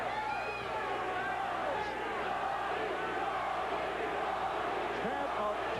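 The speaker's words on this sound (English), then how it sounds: "Chant of Tony" Boxing arena crowd at a Tony Lopez versus Jorge Paez fight, chanting a fighter's name in a loud, continuous roar of many voices with rhythmic swells under the din.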